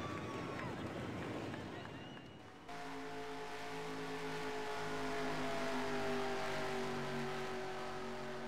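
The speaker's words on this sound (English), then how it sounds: "The cars rolling on." Stock cars roll onto the track at Darlington for a Grainger Series race. A steady drone of engines at mid distance builds slowly and holds throughout, with a sustained tonal hum, and no one speaks over it.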